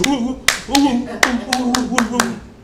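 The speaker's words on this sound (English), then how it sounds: "And I'm clapping feverishly." A single person claps feverishly, about eight sharp, uneven hand claps close by, spaced roughly a third of a second apart, layered over continuous talking.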